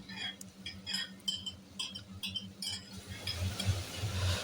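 A spoon clinks and scrapes against a pot several times in irregular bursts as chopped bottle gourd is mixed into softened cooked tomatoes, with a soft, growing sizzle toward the end.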